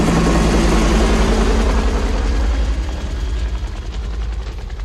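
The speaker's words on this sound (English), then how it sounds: "the choppers fly away, their friends, their allies fly away, their backup fly away" Military helicopters from the 1987 film Predator fly away, a loud heavy rotor and engine roar that slowly recedes, with no music and no voices.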